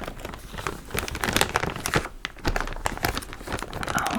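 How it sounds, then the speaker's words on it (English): A plastic bag from a thrifted purchase is handled close up, giving continuous crinkling and rustling with sharper crackles throughout, and no talking. "so we still have the plastic bag,"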